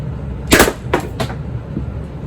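A Pepperball TCP launcher with a 9-inch smooth bore barrel fires three sharp, loud pops in quick succession, close by, followed by a faint distant impact.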